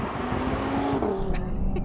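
A 2020 Audi TT RS accelerating at full throttle, engine note rising steadily from inside the car with some tire noise underneath, loud and continuous.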